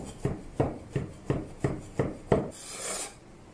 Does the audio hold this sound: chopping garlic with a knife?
yes